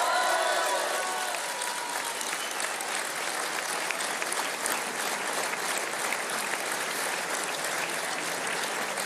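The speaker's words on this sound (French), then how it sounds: "vous pouvez les applaudir" A large crowd at a French presidential campaign rally applauds steadily throughout, dense sustained clapping at an even level without a break.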